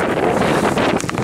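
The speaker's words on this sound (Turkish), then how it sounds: "Ama çok rüzgar alır buradan da" Steady wind buffeting the microphone outdoors near a paper wasp nest, a dense continuous rumble and roar with slight gusty swells, close and fairly loud throughout.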